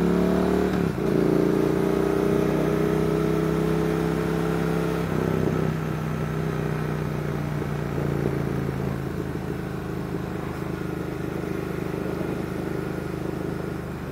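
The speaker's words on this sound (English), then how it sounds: "I just wanted to let you hear that popping on the overrun, which is machine gun quality." A Triumph Thruxton R motorcycle runs close by with a steady, loud exhaust drone that eases off as the engine decelerates on the overrun, with a faint rough crackle beneath.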